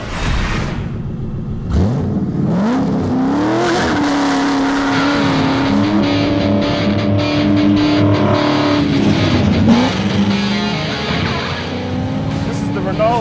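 A 630-horsepower Ronaele 700R Mustang is driven hard on a race track, its engine revving and shifting pitch through gears while tires squeal and skid, loud and sustained throughout.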